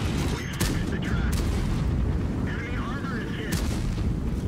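Heavy tank-gun booms from World of Tanks fire over a dense rumbling background, with a couple of sharp blasts standing out.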